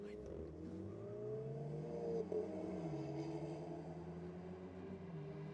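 A BMW 1 Series accelerating at a Sydney Dragway drag and drift night, a steady engine drone with rising and falling pitch as it pulls away, heard under continuous commentary.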